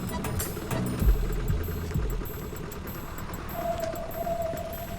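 A motorbike engine idles with a low, steady rumble as it is parked, a slight revving bump early on, then settling into a constant hum.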